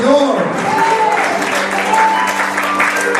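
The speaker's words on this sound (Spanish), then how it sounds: "Vamos todos a dar un aplauso, hermano, al Señor, porque el aplauso es para el Señor." Church congregation applauding during a Spanish-language service, a steady, loud wash of clapping that fills the whole stretch with voices mixed in.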